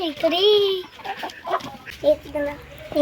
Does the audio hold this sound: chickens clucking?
yes